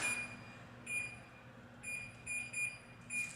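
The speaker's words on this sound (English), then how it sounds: "I forgot to set the timer, so let's do that" A kitchen oven timer beeps several times in short high-pitched bursts, some single and some doubled, spaced irregularly as the buttons are pressed to set it, with a steady low hum underneath and no talk.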